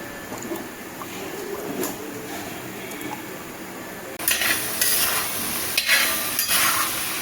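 Raw banana masala is stirred in coconut oil in a pan. Quiet scraping and clinks come first, then a louder, steady sizzle breaks in with occasional spoon-against-pan knocks.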